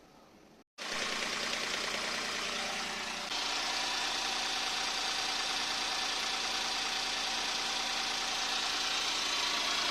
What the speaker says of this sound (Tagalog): Warm up na natin ang ating engine.